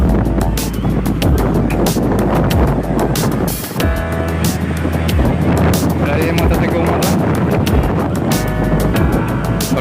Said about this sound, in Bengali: হয়তো আপনারা হাওয়ার আওয়াজও শুনতে পাচ্ছেন।